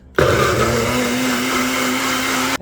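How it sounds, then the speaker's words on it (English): Countertop blender whirring through strawberry fritter batter with milk, a steady loud motor drone with a sharp start and stop, running alone for a couple of seconds. "A quick blend, just for 30 seconds."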